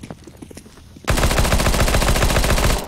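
Rapid automatic gunfire in the PC game Counter-Strike: Global Offensive erupts after a quieter stretch of distant shots, a loud continuous burst with dense rhythmic reports that runs to the end, with no talk over it.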